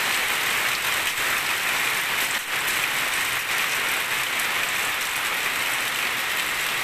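Heavy rain pours down in Cyprus, a dense, loud, steady hiss of water striking surfaces that holds without a break throughout, with no voices over it.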